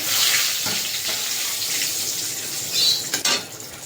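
Whole cumin, dried red chillies, bay leaves, cloves and cinnamon drop into hot oil in a pan, making a steady close hiss of sizzling that flares briefly near the end, with no talking.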